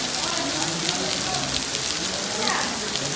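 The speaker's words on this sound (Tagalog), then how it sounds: "Oh, ang lakas ng ulan. Ang lakas ng ulan. Inulan kami dito." Heavy rain pours steadily in Batangas, Philippines, a dense, constant hiss of drops hammering surfaces with no letup.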